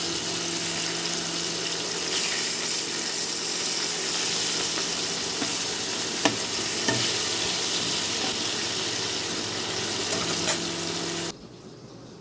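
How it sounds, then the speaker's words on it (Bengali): Hilsa fish heads frying in hot oil give a steady, dense sizzle that holds evenly for about eleven seconds and then cuts off abruptly, close by and without speech. "এই মাছের মাথাগুলোকে আমি প্রথমে ভেজে নেবো"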